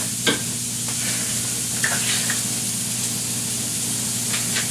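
A pepperjack cheeseburger patty sizzles loudly and steadily in a pan, with a few brief spatula scrapes as it is flipped.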